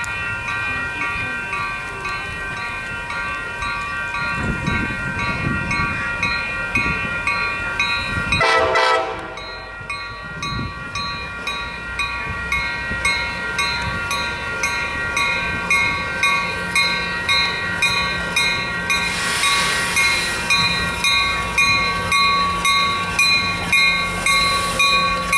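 A southbound Coaster commuter train passes through Carlsbad Village, loud and close, with a horn blast, a rush of wind as it goes by and a long run of rhythmic clickety-clack from the wheels over the rail joints.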